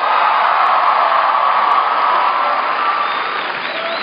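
A rally crowd in Athens, Ohio, applauds and cheers for a former governor: a thick, continuous wash of clapping and shouting, loud and sustained throughout.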